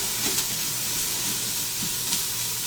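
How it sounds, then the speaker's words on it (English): Pumpkin chili with carrots simmers in a pot as it is stirred, a steady bubbling sizzle and hiss with soft scraping strokes of the spoon now and then. "give it a stir"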